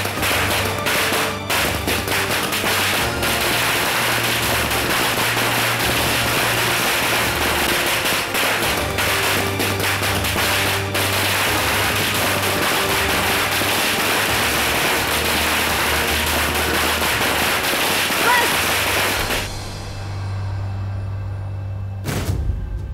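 Firecrackers crackle and burst in dense, rapid volleys for about twenty seconds, loud and continuous with sharp pops over a low rumble, then cut off abruptly into near quiet with one last faint burst.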